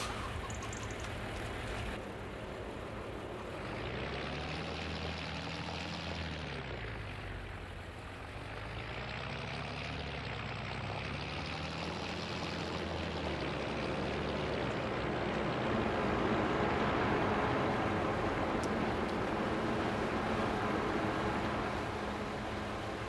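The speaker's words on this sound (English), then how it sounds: "Shut off my tractor here" A tractor engine idles in a farming survival video game, a steady droning hum whose pitch wavers gently up and down, constant and fairly loud throughout.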